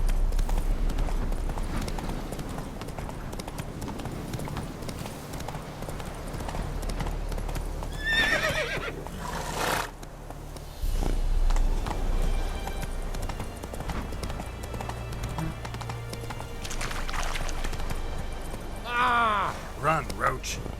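Roach, Geralt's horse in The Witcher 3, gallops with a steady, rapid clip-clop of hooves running throughout, broken by a couple of neighs and whinnies, while voices speak briefly over it.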